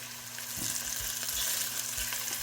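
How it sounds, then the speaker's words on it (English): About four tablespoons of butter sizzle and crackle steadily as they melt in a hot pan, with a close, continuous frying hiss and occasional light stirring. "we got about 4 tablespoons of butter. We're gonna go ahead and put that in now"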